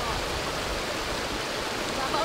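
Steady rushing of a flowing stream current, continuous broadband wash with no pauses, close and fairly loud, in a rural Aklan setting where a pot is being set into the water.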